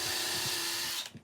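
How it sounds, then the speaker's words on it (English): An electric drill fitted with a 1/8 inch bit whirs steadily at close range while boring a hole for an eye hook in a wooden planter box, then spins down and stops near the end. "you're gonna drill it. Recommend an 1/8 inch bit or 1/8 inch drill bit."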